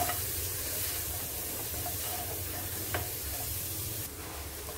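Chicken filling stir-frying in a pan with a teaspoon of soy sauce, giving a steady close sizzle with soft scraping stir strokes throughout.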